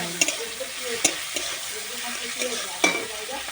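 Shrimp stirred and fried in hot oil in a pan, a steady close sizzle broken by a few sharp scraping clacks of the spatula, with no talking.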